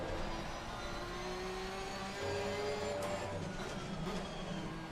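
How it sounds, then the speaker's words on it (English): A GT race car in Assetto Corsa Competizione runs fast around a wet Nürburgring, its engine a sustained whine that rises and shifts pitch over a constant road hiss, steady and without speech. "Cruising along at high speed in Nürburgring in the wet."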